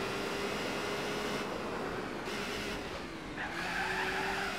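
Gran Turismo 4 car drifting: a sustained, steady tire squeal over a droning engine, shifting pitch slightly as the slide continues, close and fairly loud.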